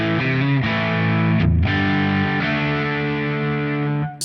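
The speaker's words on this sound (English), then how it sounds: "JTM45 amp in the high treble channel." Electric guitar through a Marshall JTM45 amp model on the high treble channel, played as sustained distorted chords with a brief break midway, loud and close with no talking.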